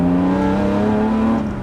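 An Eagle Low Drag GT, a restomod Jaguar E-type with a 345 hp naturally aspirated straight-six, accelerates with a loud, close, steady engine drone that holds its pitch, easing off at the very end.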